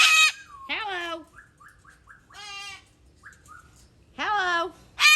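Squawking bird calls in Hawaii come as a run of loud, harsh squawks and short whistled chirps in bursts, with quieter gaps between, heard close by and alone.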